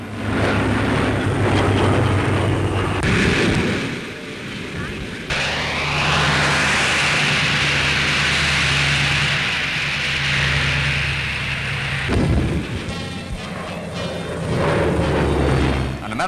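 A World War II American warplane landing on an aircraft carrier deck, its loud roaring engine sustained throughout with a brief drop midway, under a narrator's voice.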